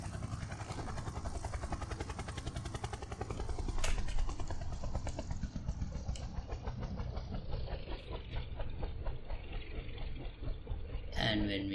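A simulated helicopter engine runs in an Unreal Engine flight scene, a steady loud whirring drone with rhythmic rotor pulsing throughout, ending in a brief burst of brighter noise; a person talks over it.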